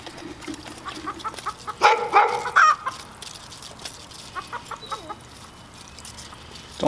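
Backyard chickens cluck and squawk in agitation at a neighbor's dog, with a loud flurry of alarmed cackling in the middle, a dog barking faintly, and scattered clucks fading afterward.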